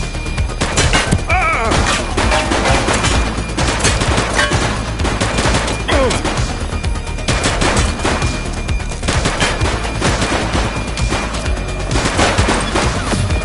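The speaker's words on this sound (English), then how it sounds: "She's shooting!" Dense, sustained gunfire during a shootout, rapid bursts and single shots crackling nonstop at close range, loud and chaotic with crashes mixed in, lasting throughout.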